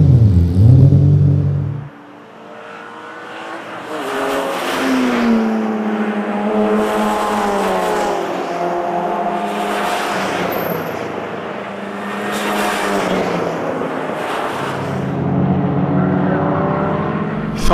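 Race car on the Dijon Prenois circuit, engine surging and revving in repeated waves as it passes, moderately loud and fairly close, with someone speaking briefly over the engine.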